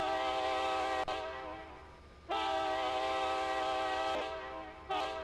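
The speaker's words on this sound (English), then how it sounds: "Amtrak PO50 goes off into the distance." Long, loud blasts of a multi-tone horn as an Amtrak P050 train pulls away in the Roblox game Train Chasers, three sustained blasts broken by short gaps.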